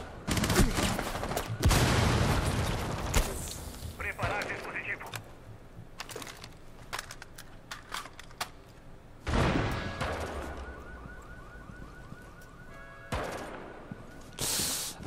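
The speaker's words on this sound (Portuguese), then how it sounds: "Tem um lá no cais, lá, trocando tiro com o Bernardo." Bursts of rapid gunfire from Rainbow Six Siege, several loud volleys separated by quieter stretches, sharp and close with echoing cracks.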